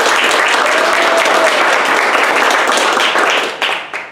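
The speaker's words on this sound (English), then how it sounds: "let's give our mentors a round of applause" An audience at a startup weekend event applauds the mentors with loud, dense clapping that holds steady and then thins out and fades near the end.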